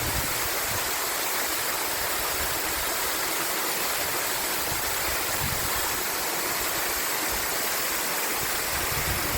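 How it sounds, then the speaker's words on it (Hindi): A rain-swollen mountain waterfall in Himachal roars as a steady, dense, close rush of falling water, loud and unbroken throughout, with no voices. "सामने दिखाई दिया यह खूबसूरत झरना। बारिश की वजह से इसका पानी पूरे जोश के साथ नीचे उतर रहा है।"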